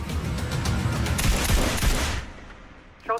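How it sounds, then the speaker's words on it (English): Gunfire erupts during an embassy assault in an action movie trailer, a dense fusillade of rapid shots and rattling bursts for about two seconds that then cuts off sharply into near silence and a brief short sound. "Shots fired in the embassy."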